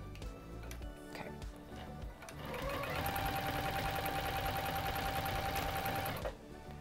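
A Juki TL-2010Q sewing machine stitches through thick layers of fabric, a fast steady mechanical clatter that starts up partway through and runs loud and continuous for about three seconds before stopping, with quieter handling noises before it.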